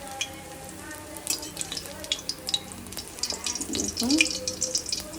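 Battered eggplant slices, beguni, frying in hot oil in a home kitchen, a soft continuous sizzle with scattered crackles and utensil clinks, while someone speaks briefly over it.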